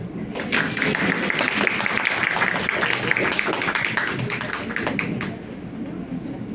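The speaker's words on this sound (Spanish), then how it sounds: "Habrá aplauso para su compañera." A classroom full of students claps for several seconds during a lecture, sustained and fairly loud, tapering off slightly near the end.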